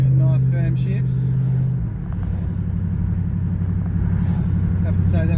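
A car's automatic transmission shifts gears on a test drive, the steady engine hum dropping in pitch as a firm shift lands, then droning on under a voice.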